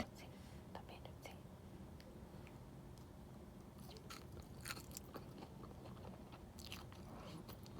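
Close, soft chewing and biting of chicken with mayo and chili sauce over rice, with faint crunches and scraping against a steady low background hum, no talk.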